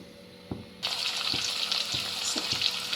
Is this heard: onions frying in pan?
yes